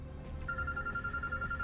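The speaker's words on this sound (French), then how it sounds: "Téléphone sonne." Telephone ringing in the video game Road 96, a steady electronic ring that starts about half a second in and holds over a low rumbling game background, with no talking.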